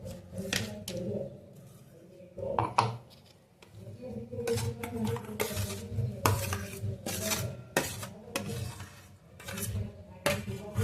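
A spoon scrapes and clinks against a metal pot in uneven bursts as a thick mixture of jaggery and blended raw mango for panha is stirred, fairly close and continuing throughout.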